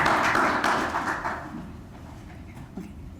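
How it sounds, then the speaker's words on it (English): Audience applause at an education forum, a burst of clapping from a room of people that fades over a couple of seconds into quiet room noise with a stray thump. "let's give him a round of applause"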